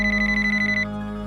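A telephone rings with an incoming call in an office setting, a steady warbling electronic tone repeating rapidly for under a second before cutting off, loud and close over a low background hum.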